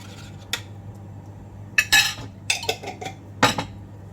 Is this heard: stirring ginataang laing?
yes